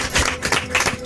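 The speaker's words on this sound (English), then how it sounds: "let's have a round of applause for that mix" Brief burst of clapping applause for a DJ mix in a radio studio, a quick dense patter of hand claps lasting about a second.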